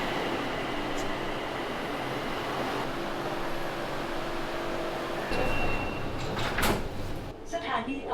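Steady rumble of a Bangkok metro car interior, with a door sliding and thudding shut near the end amid a brief burst of clatter.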